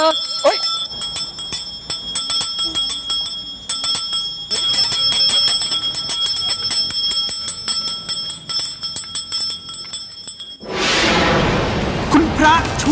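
A bell rings out in a busy, cartoonish scene, with bright repeated tolls layered over music and voices for about ten seconds before a loud whooshing burst takes over at the end.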